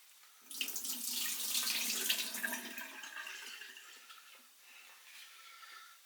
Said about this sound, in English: I'm just going to drain that off